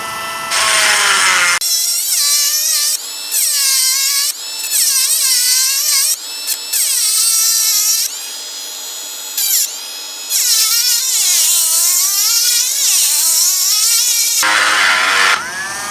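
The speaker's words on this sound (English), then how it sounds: "I'm gonna go grind the bracket up a little bit so the bolt will fit" A power grinder works a stainless steel front motor mount bracket on a WR250 motorcycle, loud, high-pitched and whining. The pitch shifts as the tool bites and eases off, in repeated bursts with short pauses.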